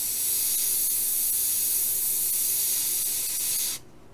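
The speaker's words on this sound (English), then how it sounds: "We'll just hit that a little bit with the airbrush and just kind of blend it in a little bit." An airbrush spraying paint onto a tiny miniature gives a steady, close, airy hiss for almost four seconds, then cuts off abruptly into near silence.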